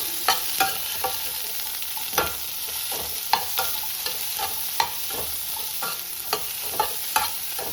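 Onions stir-fried in a pan give a continuous close sizzle, with frequent scraping and clacking strokes as a spatula keeps turning them.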